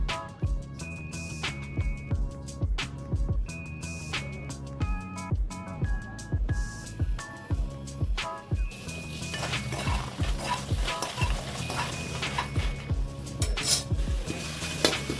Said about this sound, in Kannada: ಈಗ ಮೆಣಸು ಫ್ರೈ ಮಾಡ್ತೇನೆ ಗುಂಡು ಮೆಣಸು ಮತ್ತೆ ಬ್ಯಾಡಗೆ ಮೆಣಸು ತಗೊಂಡಿದ್ದೇನೆ